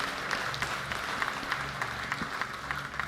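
A church congregation claps in a steady, rhythmic run of crisp hand claps that fills the room, with no talking over it.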